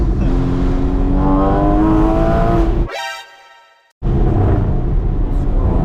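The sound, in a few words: Porsche 981 Spyder engine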